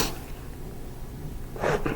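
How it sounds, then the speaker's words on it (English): A single sneeze near the end, a short burst of breath noise after a quiet stretch of low room sound, close and moderately loud. "I'm about to sneeze. I've been sneezing a lot today."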